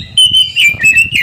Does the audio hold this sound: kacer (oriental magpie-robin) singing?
yes